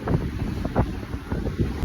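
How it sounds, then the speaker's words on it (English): Strong wind buffets a cruise ship deck, a steady gusty roar that swells and pulses throughout, with no voices over it. "it was so windy, so it was absolutely hilarious"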